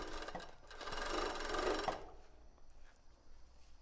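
Sewing machine stitching a tulle embroidered bra, a close, steady mechanical whir that runs for about two seconds, then stops and leaves quieter handling noise with no talking.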